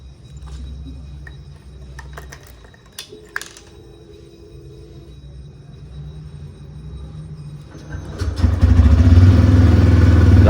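A motorcycle engine warms up at a steady low idle with some clatter, then grows louder and rougher near the end.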